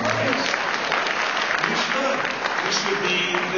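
Political rally crowd applauding, dense sustained clapping filling the whole stretch at a steady, loud level with a faint murmur of voices mixed in.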